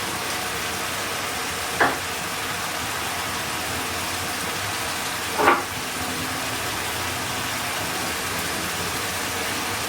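Minced meat frying in a pan with yogurt, a steady broadband sizzle running evenly throughout, with two brief louder stirring scrapes partway through and no talking.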